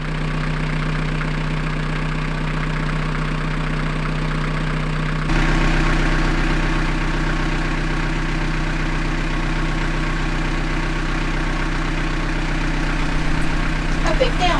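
A canal narrowboat engine running steadily nearby with a low droning hum and rhythmic vibration that grows louder partway through, while a person talks over it.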